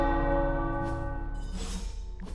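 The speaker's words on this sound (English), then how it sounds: "tower bells are ringing" Tower bells ring in the video game Marvel's Midnight Suns, a clear resonant bell tone with rich humming overtones that slowly decays, joined by fainter strikes later.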